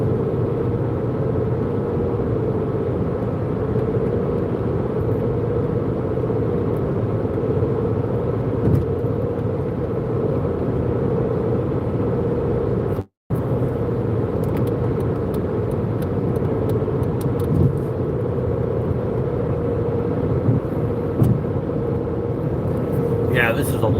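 A car cruising along the I-90 interstate through farm country produces a steady, unbroken road and engine rumble inside the cabin, continuous and fairly loud throughout, with occasional talk over it.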